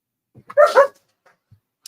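A puppy gives a couple of quick, close barks in a quiet room, followed by a few faint soft noises.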